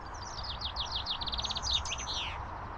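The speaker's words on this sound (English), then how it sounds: "looks like a chaffinch. Yep, chaffinch it was." A chaffinch sings one bright, descending trill of rapid repeated notes that ends in a flourish, heard at moderate distance over faint background hiss.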